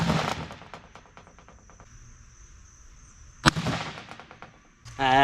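A .22 caliber rifle shot fired into a block of homemade ballistics gel outdoors gives one sharp, loud crack partway through, between stretches of quiet insect chirping and short bursts of talk.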